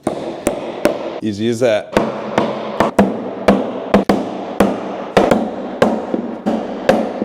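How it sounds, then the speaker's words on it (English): Bolts are hammered into the back of a wooden rock wall on a backyard playhouse, producing about a dozen sharp, loud, close metallic strikes at an uneven pace, with a short burst of talk between the early blows. "So you just hammer it in the back"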